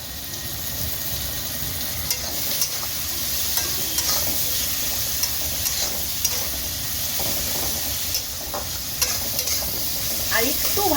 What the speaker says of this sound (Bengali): একটু গোল্ডেন গোল্ডেন ব্যাপারটা আসবে, ততক্ষণ ভাজবো।